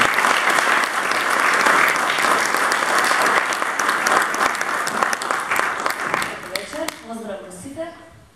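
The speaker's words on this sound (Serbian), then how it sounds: "Molim vas da pozdravimo velikim aplauzom jedinu damu učesnicu večeras" Loud, sustained round of applause from an evening audience at a humor and satire festival program, greeting the only female participant; dense clapping fills several seconds before thinning out, with a voice starting to speak at the end.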